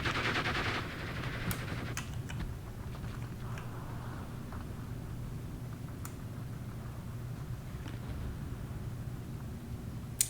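Katyusha rocket artillery firing in a WW2 real-time strategy game: a dense burst of rapid crackling launches at the start, then a steady rushing, rumbling barrage of salvo noise with occasional sharp cracks, no voices.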